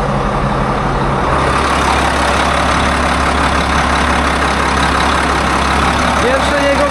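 A Case IH Magnum 7140 tractor idles close by with a steady low diesel rumble and a broad, constant engine hum that holds for the full stretch.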